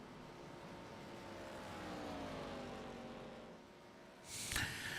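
Race car passing on the outside in an ARCA pack race at Talladega, a faint engine drone with a slowly sliding pitch, then a louder broadband rush near the end.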